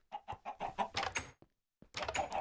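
Chickens in Minecraft cluck in a quick run of close, clear clucks, go quiet for a short moment, then start a fresh burst.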